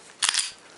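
A single sharp click as a Glock Gen 4 trigger breaks against a trigger pull gauge, a short crisp snap heard close up in a quiet room.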